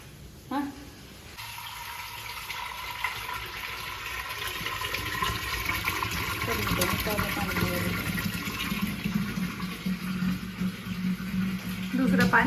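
Water runs and splashes steadily into a vessel in a household setting, a continuous pouring wash that swells toward the end, with voices talking faintly underneath.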